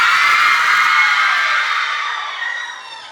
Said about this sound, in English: Everybody should scream and let me hear.